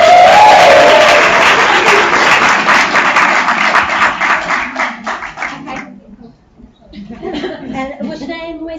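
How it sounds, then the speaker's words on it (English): An audience claps and applauds for a woman after her short sales pitch, lively clapping with a few chuckles that fades out, followed by a person speaking. "Everyone give her a round of applause!"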